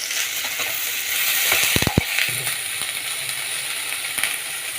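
Chopped onion and snake gourd sauté in a hot pan with a steady, close sizzle, broken by a few brief scraping stirs and clinks.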